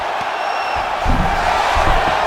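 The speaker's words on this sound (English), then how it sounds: "crowd pops as he gets out again" A UFC arena crowd roars as a fighter escapes an arm bar, a dense wall of cheering that swells partway through and stays loud to the end.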